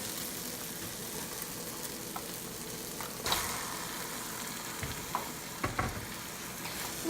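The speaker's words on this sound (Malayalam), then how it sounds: "ഇനി ഈ ചിക്കൻ നമുക്ക് നമ്മുടെ ഈ മസാലയിലേക്ക് ചേർത്ത് കൊടുക്കാം." Chicken pieces go into a pan of frying masala for chicken masala rice, giving a steady close sizzle with scraping stirs and a few louder clatters and bumps, no talk.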